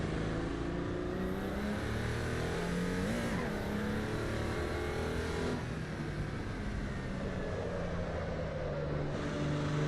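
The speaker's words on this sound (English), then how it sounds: "Sounds air-cooled, doesn't it? Sounds like a Beetle." A race car in Assetto Corsa EVO with an air-cooled, Beetle-like engine drones steadily at close range, its rev pitch rising and dipping through gear changes with brief lifts between shifts.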